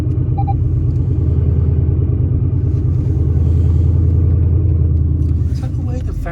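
A Mercedes-AMG GT R's engine rumbles loudly from on board, a deep, steady, throbbing drone that swells slightly partway through, with faint voices near the end.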